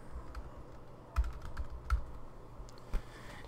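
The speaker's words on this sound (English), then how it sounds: "So I'm going to put in a password." A password is typed on a Mac keyboard: a handful of soft, separate key taps sound close by in a quiet room, with no speech.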